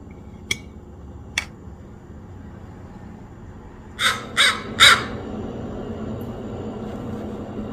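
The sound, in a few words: crow cawing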